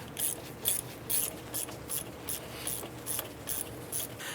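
Ratchet wrench backing out wheel hub bolts on a 2005-10 Jeep Grand Cherokee, a steady series of quick metallic clicks in short bursts, close and fairly quiet, with no talking.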